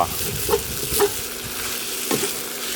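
Korat noodles being stir-fried in a hot pan, with continuous sizzling and a few scraping clanks of the utensil against the pan, heard up close without talk.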